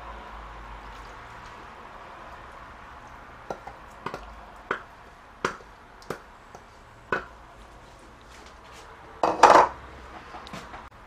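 Shredded chicken is mixed into cooked lentils in a pot for haleem, a quiet murmur punctuated by a handful of distinct metal spoon knocks against the pot and one louder clatter near the end.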